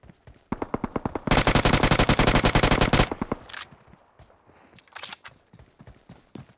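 BGMI game gunfire: a quick string of single shots, then a long dense automatic burst, followed by scattered lighter shots and footstep-like taps, loud and up front with no talking.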